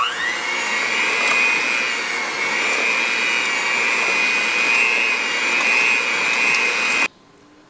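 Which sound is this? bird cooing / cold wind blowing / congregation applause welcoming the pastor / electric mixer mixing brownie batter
electric mixer mixing brownie batter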